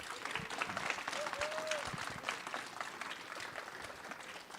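Faint audience applause for presenters at a community school project event in a library, a soft steady patter of clapping with some murmuring voices mixed in.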